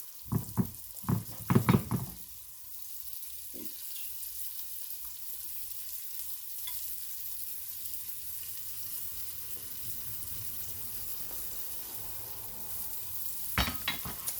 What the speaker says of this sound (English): And drop them in the oil.